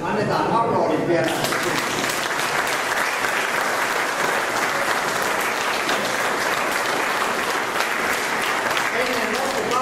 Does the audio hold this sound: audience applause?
yes